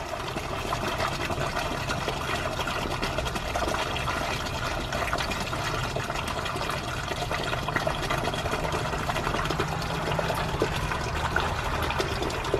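Water dumping from an aquaponics grow bed, a steady loud rushing and gurgling flow that continues without a break, with no voices.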